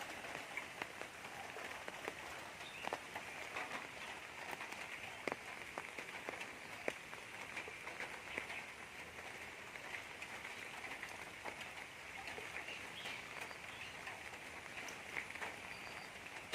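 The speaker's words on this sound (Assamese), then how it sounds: "আজি বৰষুণ দিছে" Steady rain falls over flooded farm fields, a soft continuous hiss with scattered sharper drop impacts spread evenly throughout, fairly faint and with no voices.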